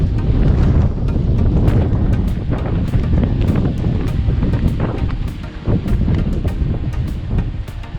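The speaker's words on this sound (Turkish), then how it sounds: "Bugün Mersin'de e, güzel bir rüzgar var." Strong wind at a seaside castle in Mersin buffets the microphone in continuous gusty roars, with a low rumble and sharp bursts throughout.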